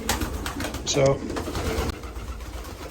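Pigeons coo in a stock loft holding roller, racing, pure white and pure black birds, soft repeated calls close by under a man's speech and loft noise.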